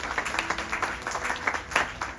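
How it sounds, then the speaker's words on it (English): An outdoor gathering in a park claps for a performer at a Ramayan recitation, a soft, fairly distant patter of many hands that rises and falls steadily with no talk over it. "Give Boj a round of applause, everybody."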